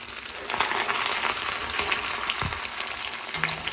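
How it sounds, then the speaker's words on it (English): Salmon nuggets deep fry in hot oil, a loud, continuous bubbling sizzle with crackling spits, close and steady for a few seconds and no talk. "So you just fry it up, and it's going to get nice and crispy."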